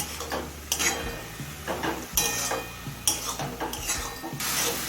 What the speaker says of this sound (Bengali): মিডিয়াম ফ্লেমে কিছুক্ষণ রান্না করে লাল শাকের সম্পূর্ণ জলটা শুকিয়ে নেব